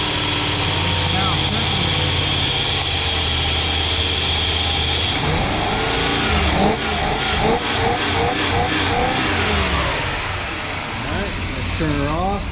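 Mopar 383 V8 fitted with a swapped-in 4-barrel carburetor and suffering a bog: a loud, close idle that rises into revs with surging, uneven pulses, while people talk over it.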